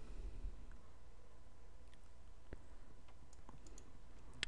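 Faint mouse clicks on a computer while Microsoft Teams is opened, a few scattered sharp ticks in a quiet room, including a cluster near the end, with no speech.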